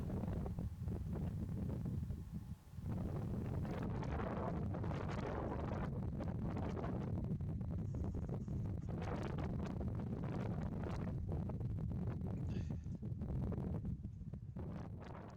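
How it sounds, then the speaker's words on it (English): Wind buffets a 32-foot push-up antenna mast outdoors, a steady loud roaring rush with gusty swells that fills the entire stretch and blasts across the microphone. "we'll just watch it dance in the wind a little bit here for a moment"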